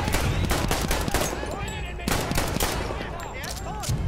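Rapid, loud gunfire in a Battlefield 1 battle cracks out in quick repeated shots with overlapping distant fire and a few clipped voices mixed in.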